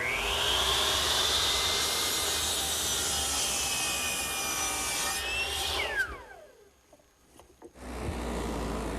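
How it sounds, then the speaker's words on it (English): A radial arm saw set at 45 degrees cuts wooden collar ties to size, giving a loud sustained whining cut that rises in pitch near the end, then the motor winds down and the cut stops before the saw starts up again. "While the radial arm is still turned to 45 degrees, I'll cut the 5 collar ties and the 5 top blocks to size."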